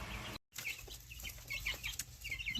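Young Australorp chicks peep in short high chirps, several scattered cheeps close by in a brooder huddle, with light rustling and a brief dropout early on.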